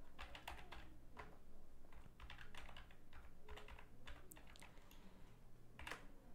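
Computer keyboard typing code, a steady run of quick soft key clicks in irregular bursts, close and fairly quiet, with no talking.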